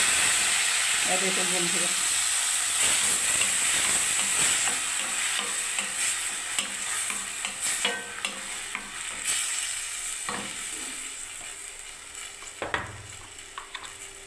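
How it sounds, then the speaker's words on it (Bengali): Onion, ginger and tomato paste poured into hot oil for a ridged gourd and paneer curry hisses and sizzles steadily, with occasional spoon scrapes and clinks against the pan, while someone speaks briefly over the frying. "পেঁয়াজ, আদা, টমেটোর পেস্টটাকে আমি ঢেলে দিচ্ছি এবারে বন্ধুরা গরম তেলের মধ্যে"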